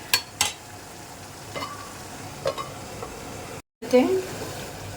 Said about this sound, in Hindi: अब इसको हम ढक देते हैं कि मसाला हमारा बहुत अच्छे से भुनने देंगे